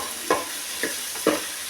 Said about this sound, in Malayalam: അപ്പോൾ നമ്മുടെ കഷ്ണങ്ങളെല്ലാം ഒന്ന് വഴറ്റി വന്നിട്ടുണ്ട്